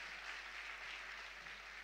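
A church congregation applauds together, a steady, even wash of clapping that holds at the same level without a break for about two seconds and sounds distant and soft.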